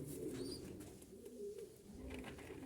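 Young Blauwinder pigeons cooing softly in an aviary, low murmuring coos repeating throughout, faint and fairly close with light background rustle.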